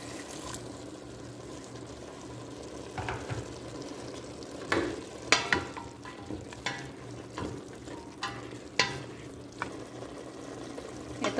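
Broth for sotanghon guisado bubbles and sizzles steadily in a pot, with scattered clinks and stirring sounds close by and no voices.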